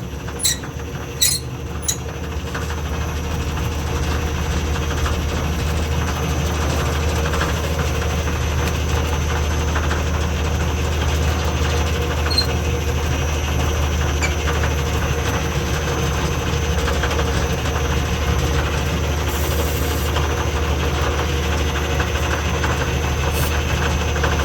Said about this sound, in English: So if I go back the other way, you'll see this belt move out and this belt move in.